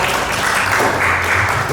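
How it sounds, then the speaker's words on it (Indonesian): Applause from an audience at a presentation: steady, dense clapping that fills the whole moment at close range. "Berikan aplaus untuk Bapak."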